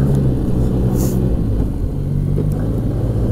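A 2016 Arctic Cat Pantera 3000 snowmobile with a 700cc four-stroke engine runs steadily close by, a loud low rumbling drone with a slight waver and no talk over it.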